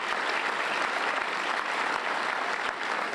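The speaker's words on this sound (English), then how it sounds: "Let's give them all a round of applause." A convocation audience at the University of Arkansas applauds officials during a welcome for an interim chancellor, a full, sustained burst of crowd clapping at a steady level.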